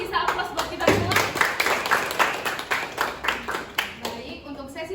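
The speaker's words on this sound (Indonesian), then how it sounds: "sebelum kita akhiri mungkin bisa aplaus buat kita semua" An audience claps together at the close of an anti-corruption outreach session, with steady, fairly close applause and uneven individual claps over about five seconds.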